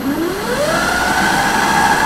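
A Gesits electric motorcycle, now fitted with a chain, switched on and accelerating: a steady electric motor whine rising smoothly in pitch over about two seconds, close and fairly loud, with no talking.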